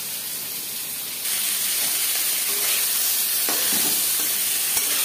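Soaked chickpeas fry in a hot pan with a close, continuous hiss and sizzle that jumps louder after the first second, with occasional faint stirring clinks and no talking.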